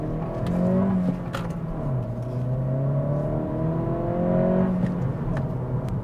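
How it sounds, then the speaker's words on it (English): A 2023 Acura Integra A-Spec with a manual transmission and VTEC revs up through the gears from inside the cabin, its engine note rising steadily, dropping back at a shift and climbing again, loud and continuous with no talk. "You can definitely feel that VTEC kicked in, yo."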